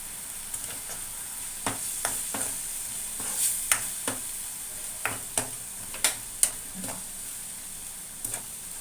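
Masala fries in a pan with rock salt, a soft steady sizzle under a series of light ticking scrapes as a spoon stirs it at irregular intervals, close and fairly quiet.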